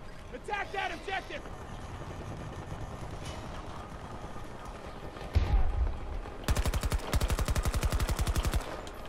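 Hip-fired automatic gunfire in Battlefield 2042 on PS4: a fast, steady burst of shots about two-thirds of the way through, loud against busy in-game background noise, with players talking over the action.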